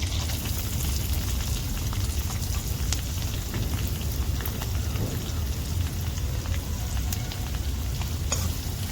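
Finely chopped green chillies and onion fry in hot oil with a dense, continuous crackling sizzle that sounds like steady rain, with faint stirring taps.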